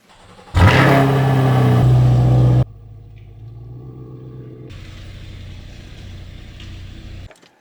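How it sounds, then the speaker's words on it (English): A Fiat 500 Gucci edition car pulls into a garage: a loud engine rev surges at first, then drops to a steady, quieter engine rumble as it rolls in, with no talking. "let's bring your car in here and get to work"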